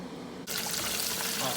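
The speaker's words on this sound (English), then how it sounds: "and then let it fry for a few minutes." Chicken pieces dropped into hot canola oil, a sudden bright sizzle bursting in and holding as a dense, steady crackle for the rest of the moment.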